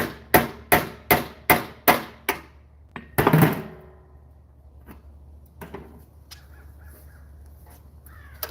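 A hammer drives two rivets through the back, where the piece sits between two straps. Seven quick, evenly spaced sharp blows ring out close and loud, followed by one heavier strike and a few scattered lighter taps.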